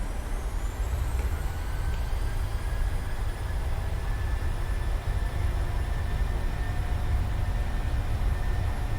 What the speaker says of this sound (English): Let's go ahead and take off and see how things are actually going to be.